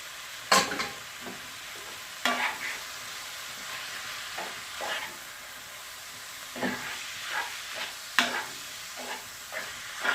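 Noodles are stir-fried and tossed for chicken chowmein, with a low sizzle broken by sharp scraping clatters of the spatula against the pan at irregular intervals, close and clear with no voices.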